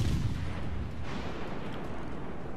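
Heavy guns of the French battleship Jean Bart fire in World of Warships Legends on PS4 Pro, producing a sustained low rumbling boom that rolls on without break, with no voices over it.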